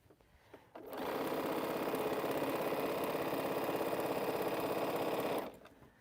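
A sewing machine stitches a quilt seam in one steady, continuous run lasting several seconds, starting and stopping abruptly, close and loud with no voices.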